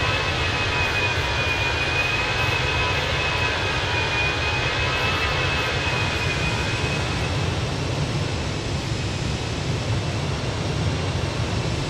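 Steady, loud jet engine roar of a LATAM Fenix A321 airliner in flight in Microsoft Flight Simulator 2020, a continuous broadband drone with a faint high whine running through it, unbroken and with no voices.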